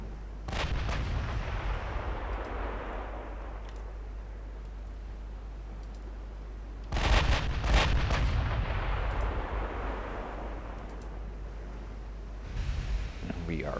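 Heavy warship guns boom in Ultimate Admiral Dreadnoughts: a thunderous broadside near the start, a second big salvo midway and a smaller burst near the end, each leaving a long rumbling tail, with a voice talking over parts of it.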